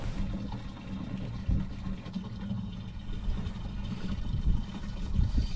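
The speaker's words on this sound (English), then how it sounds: "Pour this in and then we'll fill the remaining 45 gallons." Water pours and splashes steadily into the fresh-water tank of a Rockwood Mini Lite 2205S camper trailer during sanitizing, a continuous gurgling rush with a low rumble underneath.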